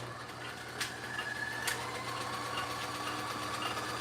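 Sewing machine stitching forward and back through thick puppet fabric, its steady mechanical whir running continuously with a couple of sharp clicks partway through.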